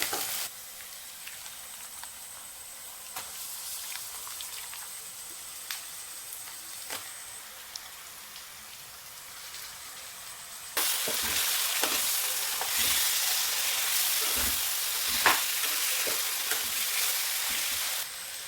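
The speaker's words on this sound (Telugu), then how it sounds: "మన ఆనియన్స్ వేగాయి కదా, చికెన్ వేసేద్దాం దీంట్లో" Chicken pieces going into a pan of browned onions and turmeric, crackling and sizzling steadily, the frying growing louder and denser partway through, with stirring scrapes and no voices.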